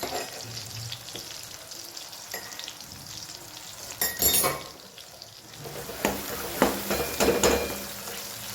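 Garlic and green chili sizzle and fry in a hot pan, a steady crackle with sharper spitting bursts and stirring scrapes toward the end, close by.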